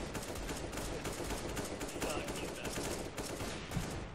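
Rapid automatic AK rifle fire in a CS:GO match, a dense run of bursts filling the whole moment at steady loudness, with other game noise mixed in.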